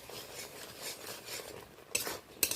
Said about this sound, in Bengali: এই মশলা আর চিংড়ি সবই একসাথে ভালোভাবে আরও 2 মিনিট 3 মিনিট ধরে ভালো করে কষিয়ে নেব